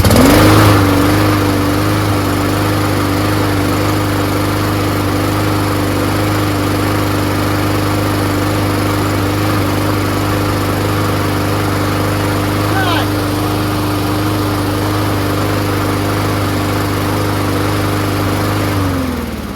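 A lawn mower engine, rebuilt from curbside parts, runs steadily at high RPM, a loud continuous drone with a constant pitch throughout, close to the listener and with no talk heard.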